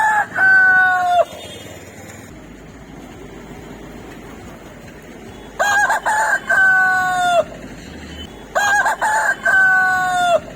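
Roosters at a tribal weekly market in Addatigala, Andhra Pradesh crow loudly and close, three separate crows spaced a few seconds apart over a low background murmur.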